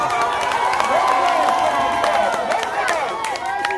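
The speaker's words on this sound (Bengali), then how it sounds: "হাততালি, সকলে হাততালি দেন।" An outdoor crowd at a rural boat race competition claps and cheers in a continuous burst, with a loud announcer's voice ringing over the applause.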